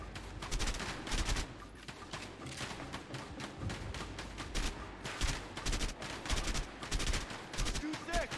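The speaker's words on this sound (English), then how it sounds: "They're shooting at me" Gunfire in the video game A Way Out: sustained rapid bursts of shots rattle continuously at moderate level, with a faint voice now and then beneath.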